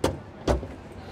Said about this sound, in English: the door handles pop out